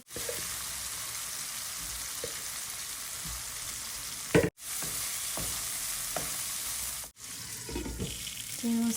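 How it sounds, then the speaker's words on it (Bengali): Spice paste with ginger and garlic fries and sizzles steadily in a pan, a continuous close hiss broken by a few scraping stir sounds and two brief pauses. "এখন আমি মশলাটা ভালো করে কষিয়ে নেব"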